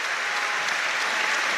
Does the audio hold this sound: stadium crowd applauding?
yes